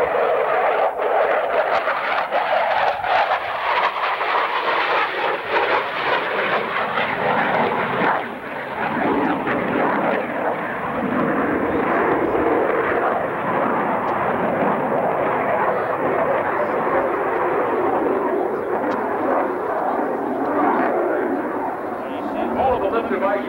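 A CF-18A Hornet jet sweeps past at about 400 mph doing three high-rate aileron rolls at a 1989 London, Ontario air show, its loud roaring rumble sustained throughout while an announcer talks over the noise.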